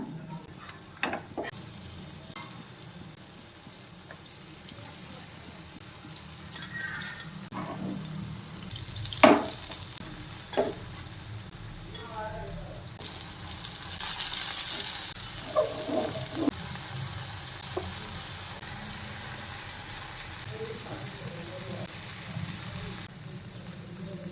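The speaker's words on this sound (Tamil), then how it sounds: "தோசை பேனில் வாழைக்காவை ஒன்றா ஆட் பண்ணிட்டேன்" Raw plantain fries on a dosa pan with a faint, steady sizzle, and occasional clinks and scrapes of utensils sound throughout. No one speaks.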